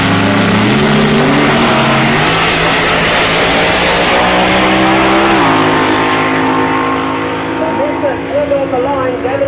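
A drag race car engine roars at Tarlton Raceway, loud and close, revving and climbing in pitch in steps before easing off near the end.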